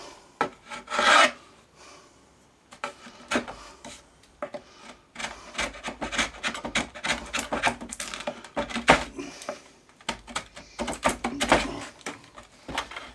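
Sandpaper rasps by hand across the wooden cabinet of a Bush VHF 41 radio, close and dry, in irregular bursts of rapid back-and-forth strokes with brief pauses between.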